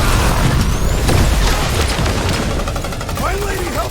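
Heavy weapons fire in the Guardians of the Galaxy video game as a dense, loud barrage of rapid gunfire and booms with chaotic effects, while voices talk over the combat.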